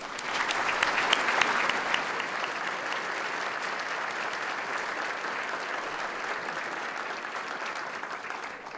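An audience applauding at a city State of the City event in Midland, welcoming new police chief Nicole Ford, a steady wash of clapping from many hands that holds at an even level for nine seconds before easing slightly.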